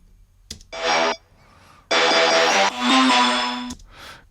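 A Serum bell lead synth doubled with a brass sample plays loud, bright phrases in a trap beat, with a short stab, a pause, then a sustained run of notes that ends abruptly.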